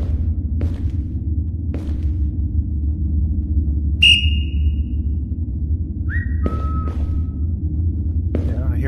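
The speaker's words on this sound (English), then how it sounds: "Yeah, I hear a whistle back." Whistles sound inside a VRChat escape room game, one sharp high whistle near the middle and a shorter pair later, heard over a low steady rumble with faint clicks.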